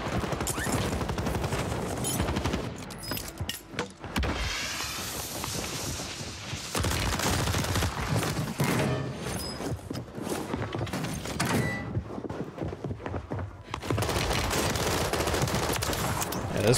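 Rapid, dense pistol gunfire from a video game on Rebirth Island, loud and near, with bursts of shots running through most of the stretch and only brief pauses between volleys.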